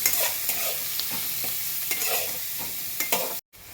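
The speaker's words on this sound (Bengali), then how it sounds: "ভালো করে নাড়াচাড়া করে দেব।" Onion stalks fried in a pan with salt and turmeric are stirred, a spatula scraping in uneven strokes over a constant close sizzle, which cuts out briefly near the end.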